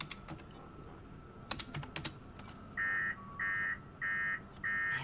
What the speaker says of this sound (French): Un clavier, ok.